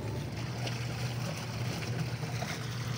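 A washing machine, run without its pulsator screw, churns water and clothes in a steady, continuous wash-and-slosh with a low hum underneath, loud and close, with no talk.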